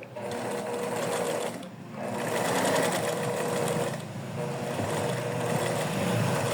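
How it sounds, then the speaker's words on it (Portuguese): A sewing machine stitches a curved seam on a fox plush toy, running in steady motor-driven bursts with a brief pause mid-way, close and fairly quiet, with no talking. "Dou uma costuradinha, coloco o pé de máquina pra dentro de novo, giro e levanto."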